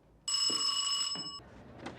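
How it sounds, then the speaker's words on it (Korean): A doorbell rings indoors, a bright sustained electronic ringing tone lasting about a second, followed by faint knocks or footsteps, with no talking. "안나를 보내고 아쉬워하는 그때 울리는 초인종"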